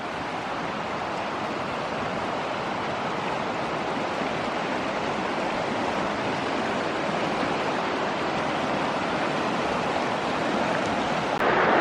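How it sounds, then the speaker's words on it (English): A creek near a backcountry camp flows in a steady, broadband rush of water, constant and moderately loud for the whole stretch, with no voices. "We heard the creek, so I think this is the spot."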